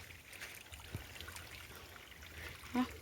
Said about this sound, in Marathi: पाणी पाण्यांचा खळखळट येतो